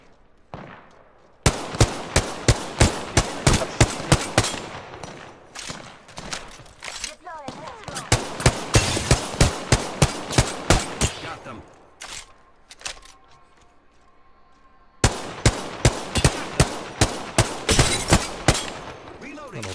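Apex Legends gunfire comes in long rapid automatic bursts, loud and close, broken by short pauses between strings of shots and a stretch of quieter ambience before the firing resumes.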